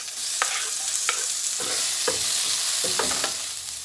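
Garlic and onion sauté in a little oil, a steady sizzle broken by several sharp scraping stirs of a utensil against the pan at irregular intervals.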